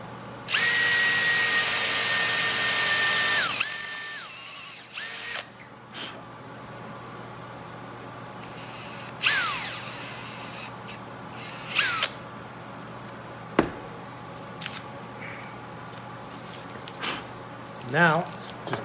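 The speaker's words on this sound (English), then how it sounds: "Now I can drill through this one with a pilot bit" A power drill with a pilot bit bores through wood while making a stop block for miter saw wings: a loud, steady whine lasting about three seconds, then quieter knocks, tape handling and scattered workshop noises with someone talking.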